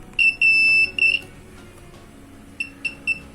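A multimeter's continuity test gives a series of high-pitched electronic beeps, short and longer tones, that pause and then return as a few quick chirps.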